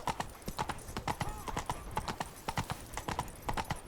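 Hooves of the horse Roach clip-clopping at a trot in The Witcher 3, quick rhythmic close hoofbeats running throughout, with a brief faint whinny.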